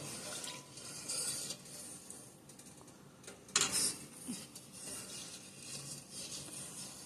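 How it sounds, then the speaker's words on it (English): Spoon stirring sugar into homemade ginger beer, a natural darker sugar not yet fully dissolved; soft, irregular clinking and scraping against the container, with one brighter louder clink partway through. "So I'm just stirring."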